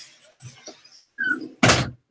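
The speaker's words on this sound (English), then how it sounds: "I'm going to shut this door." A door is shut indoors, ending in a single loud, close thud after a few softer scuffs and rustles of movement.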